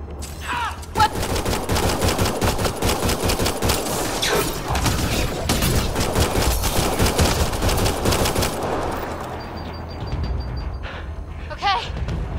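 Gunfire in the sci-fi shooter Mass Effect Andromeda on the Habitat 7 planet: dense, continuous automatic weapon bursts with rapid overlapping shots and heavy thumps, thinning out toward the end.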